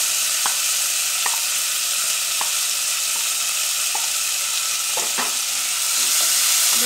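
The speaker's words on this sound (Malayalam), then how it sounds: "ഇത് നന്നായിട്ടൊന്ന് ഇളക്കി യോജിപ്പിക്കാൻ." Jackfruit seeds frying in a pan for chakkakuru mezhukkupuratti, with a steady sizzle throughout and a few sharp scrapes of a spoon stirring them at intervals, close and without talk.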